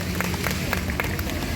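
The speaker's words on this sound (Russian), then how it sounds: "Сами себе аплодисменты" A concert audience applauds, a dense crackle of many hands clapping at once, fairly loud and steady through a short stretch.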